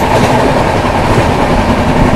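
Vivek Superfast Express, train number 22504 from Dibrugarh to Kanyakumari, rumbles past at close range with steady loud clickety-clack of wheels on rails, continuous throughout.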